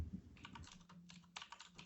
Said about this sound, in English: Is someone typing in Blue Scruff McGruff?